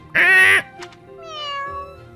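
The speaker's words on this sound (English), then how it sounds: "Eat, Mr. Kitty, eat." A cat meows loudly while eating in the video game Fire Emblem: Three Houses. One sharp, close meow is followed by softer, higher tonal sounds from the game.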